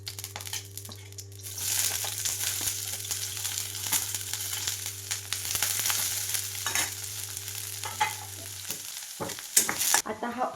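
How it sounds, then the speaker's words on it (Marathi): A ground masala of wet coconut, ginger, garlic and coriander roasts in a pan, a steady loud sizzle with constant stirring scrapes over a low hum, ending in a few sharper clatters. "आता मी हा जो मसाला काढलेला आहे तो भाजून घेते"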